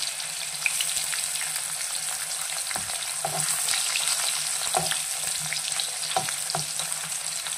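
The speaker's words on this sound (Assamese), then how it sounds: "এইখিনি ধুনীয়াকৈ মই ফ্ৰাই কৰি ল'ম।" Raw banana pieces frying in mustard oil over a medium gas flame, a continuous hiss and sizzle broken by occasional clinks and scrapes of stirring.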